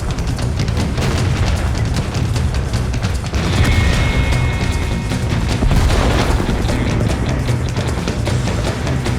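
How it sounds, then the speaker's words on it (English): Heavy booming fire from World of Tanks artillery, deep rumbling blasts and crashes layered under a continuous dense battle din, loud and close, with no talk. "Bodan gets into position and starts lobbing shells"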